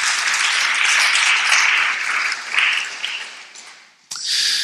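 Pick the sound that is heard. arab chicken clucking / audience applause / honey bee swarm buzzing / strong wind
audience applause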